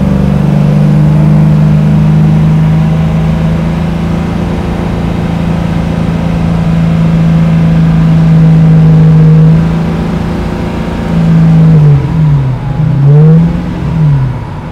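A 1974 AMC Javelin hot rod engine drones steadily at cruising speed, loud and close, then rises and falls in a few quick revving swells near the end.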